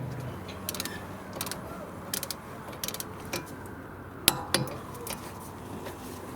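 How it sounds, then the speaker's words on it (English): A bolt securing the brake line on a 2002–2006 Acura RSX rear brake is reinstalled, giving a few faint metallic clinks and taps of the wrench and bolt, with one sharper clink partway through, against a quiet background. "Now we can reinstall the bolt that holds the brake line in place."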